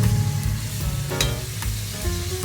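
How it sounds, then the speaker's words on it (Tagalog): A spoon stirs arroz caldo ingredients in a pot over a loud steady sizzle, with scraping strokes against the bottom and close bubbling frying noise, no voices. "halo-halo ng konti para hindi po manikit sa ilalim"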